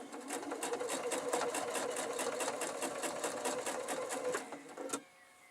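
A sewing machine stitches a large Cathedral Windows quilt, running slowly with a steady, even rhythm of needle strokes for about five seconds before stopping.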